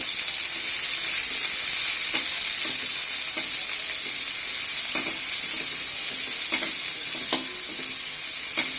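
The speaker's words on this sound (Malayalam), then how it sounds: "ഇതൊരു 2 സവാളയാണ് നമ്മൾ അരിഞ്ഞു വെച്ചേക്കുന്നത്. അതിലേക്ക് ഇട്ട് കൊടുക്കുക, ഇളക്കി കൊടുക്കാം." Two chopped onions with curry leaves fry in oil for a Kerala-style beef fry, a dense, steady close sizzle with periodic scraping strokes as they are stirred around the pan.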